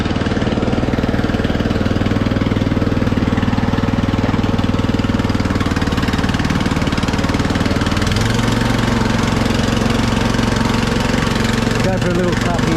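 A lawn mower engine runs during a test with its deck just refitted. The drone is loud, close and unbroken, and its note shifts slightly partway through, while someone talks over it.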